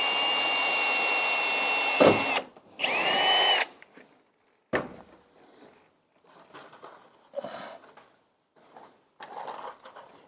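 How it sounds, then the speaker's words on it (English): Power drill boring holes during a saw modification build: loud whirring bursts of a few seconds each, separated by pauses with quieter handling sounds, then shorter, fainter drill runs. "I'm only drilling one hole at a time right now"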